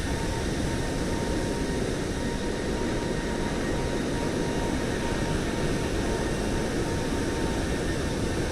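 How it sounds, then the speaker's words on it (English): An airliner rolls for takeoff in Microsoft Flight Simulator 2024, its jet engines giving a steady, loud, broadband roar with a faint whine, unchanging for several seconds and with no voices. "Simple takeoff on the runway line."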